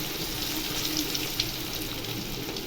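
Chicken kebab fries in hot, foaming oil, giving a steady close sizzle and hiss with small crackles throughout, no talking.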